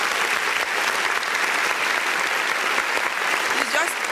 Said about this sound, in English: And please, can you give him a round of applause?